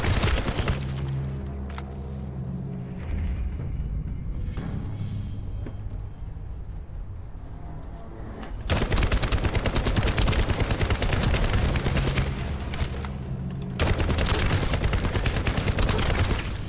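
Sustained gunfire in The First Descendant: a loud, continuous automatic barrage that pauses briefly and resumes, and then a heavy rapid rattle fills the rest.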